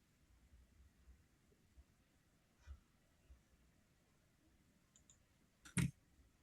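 Dice rolled during a Twilight 2000 tabletop role-playing session give one brief, loud rattling clatter near the end, after a quiet stretch with only a few soft clicks.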